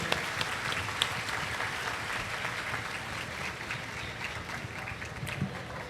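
A congregation at an outdoor Holy Mass during an annual national pilgrimage claps in welcome for Archbishop Benny Mario Travas. The applause is steady but distant and soft, a continuous wash of many hands with a slight breezy texture.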